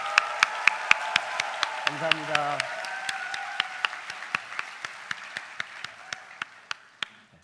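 A church worship-service crowd claps as sharp rhythmic clapping in unison that slowly fades, with someone briefly speaking over it near the start.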